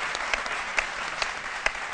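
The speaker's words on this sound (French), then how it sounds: "qu'on applaudit très fort" A studio audience on an Ivorian midday television talk show applauds steadily, a dense even patter of many hands with a few sharper claps standing out, no voices over it.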